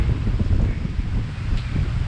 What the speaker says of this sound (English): it's still a little bit windy.